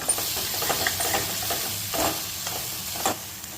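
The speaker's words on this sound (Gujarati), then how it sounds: "લાલ મરચું પાવડર અને ધાણા જીરું પાવડર એડ કરી દઈએ. બરાબર મિક્સ કરી દઈએ." Mixed vegetables with red chili powder and coriander-cumin powder stirred in a hot pan, giving a steady close sizzle with scraping spoon strokes and soft clinks throughout, no voices.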